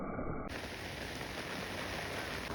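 Heavy monsoon rain at the Patagupp bridge near Hosanagara: a dense, even hiss of rain on surfaces, close and steady, broad and unbroken, with no voices.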